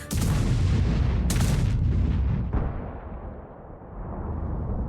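A BZT-70 tier-10 super-heavy tank's 180 mm gun fires in a video game, a single loud booming blast with a sharp crack, followed by a long rumbling decay and a second quieter burst.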